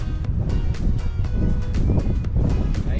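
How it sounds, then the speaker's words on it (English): Steady low-frequency wind rumble and buffeting from wind picking up on a golf course during a round, loud and continuous against the microphone for the whole stretch. "You can see the wind coming in as well."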